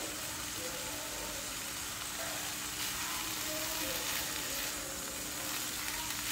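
Onions and green chillies frying in oil on a low flame give a continuous, close hiss and sizzle of even loudness, with a few faint stirring sounds and no speech.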